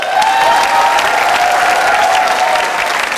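A studio audience at an Iron Chef Thailand cooking competition bursts into loud, sustained applause and cheering that fills the whole moment.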